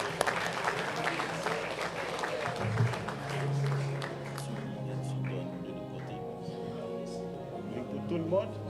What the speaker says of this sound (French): nous pouvons applaudir cette autorisation